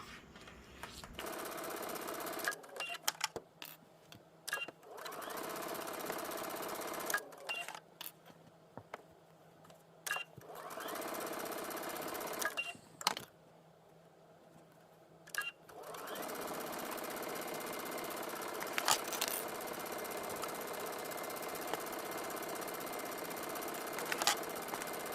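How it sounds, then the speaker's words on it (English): A sewing machine stitches a seam on a New Look NL6669 garment, running in several bursts of steady mechanical whirring separated by short pauses, with no talk. "now we're going to stitch from the lower edge of the small dot all the way to the"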